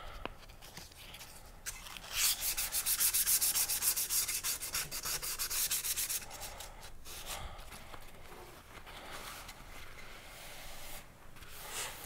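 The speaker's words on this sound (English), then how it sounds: "I'm wet sanding with the 600" Faux Bone is wet sanded by hand with 600 grit sandpaper, giving a close, soft rhythmic rubbing and scraping in short strokes that swell louder midway and then ease back.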